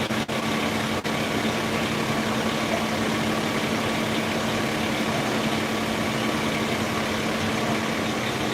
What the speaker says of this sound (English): it's a fan blowing air into the house to get all the smoke out